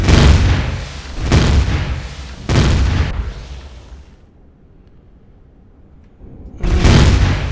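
Shooting into the ground in the game Empyrion Galactic Survival, heavy booming blasts repeated about four times, loud and close, with a quiet pause between the third and last.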